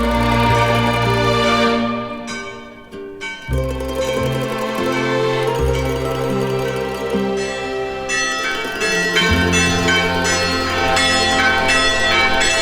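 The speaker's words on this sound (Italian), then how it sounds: "Qua il suono delle campane è davvero una gioia a mezzogiorno" Church bells ring out at noon in Peschici, a white hilltop village on a cliff above the sea, with loud, sustained overlapping peals that pause briefly and then resume, heard close and alone with no talking.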